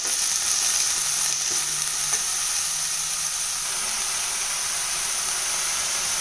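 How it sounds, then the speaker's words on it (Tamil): Fenugreek leaves sautéing in an open pan, a steady bright sizzle with occasional stirring scrapes, close and continuous, no talking. "இப்போ இது ஒரு நிமிஷம் வதங்கினா போதுங்க"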